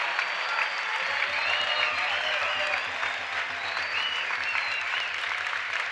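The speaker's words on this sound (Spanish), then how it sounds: "¡Aplaudan fuerte!" A large outdoor crowd at a resistance march applauding loudly, continuous dense clapping with shouts and voices mixed in, steady and close for the whole stretch, with a low rhythmic thump underneath.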